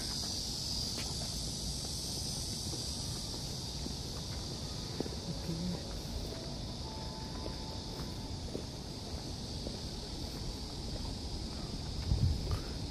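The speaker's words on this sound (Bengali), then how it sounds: "ঝিঝি পোকার ডাক আমাদের স্বাগত জানাচ্ছে" Crickets chirp steadily outdoors at a Korean War memorial in Korea, giving a constant faint high trill over low background rumble, with a couple of soft knocks near the end.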